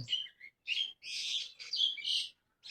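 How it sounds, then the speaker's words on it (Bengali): Small birds chirp and tweet in a village of the Rangpur region, quick bright calls arriving in about five short bursts with brief pauses between them, clear and fairly close, with no talking. "পাখির কিচির মিচির ডাক"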